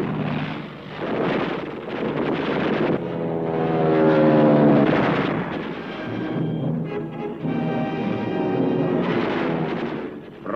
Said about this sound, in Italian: Un Blenheim mitragliato e incendiato precipita in mare.